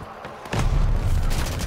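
Gunfire and booming blasts in Call of Duty: Vanguard, starting abruptly after a brief quiet moment and continuing as a loud, dense barrage of shots with no voices.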